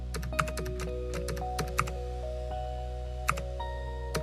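Typing on a computer keyboard: scattered, irregular clicks with a few sharper keystrokes over a low steady hum, at moderate distance and with no talk.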